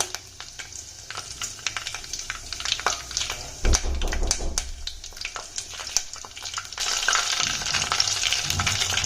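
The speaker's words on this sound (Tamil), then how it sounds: "எல்லாத்தையும் வந்துட்டு நல்லா வதக்கி விட்டுக்கோங்க" Curry leaves and slit green chillies sauté in hot oil in a pan, crackling and spitting with a busy sizzle. Frequent metallic scrapes and clinks of stirring come close up, and the frying grows louder toward the end.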